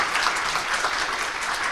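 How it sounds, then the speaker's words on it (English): Audience applause for a panel at a business forum, a dense, even wash of many hands clapping from a sizable crowd, sustained at steady volume throughout. "A round of applause for our panel."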